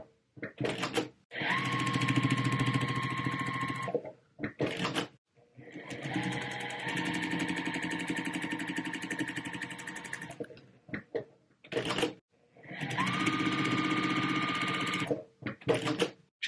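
A sewing machine stitching a quilt block seam in three long, steady whirring runs, close and loud, separated by short pauses and brief stop-start bursts of the needle.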